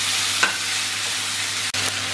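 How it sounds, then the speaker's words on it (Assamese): Food fries in hot oil while being stirred, a dense and even close sizzle with a brief scrape and a short dip near the end. "কেঁচা হৈ থকালৈকে ভাজি থাকিব"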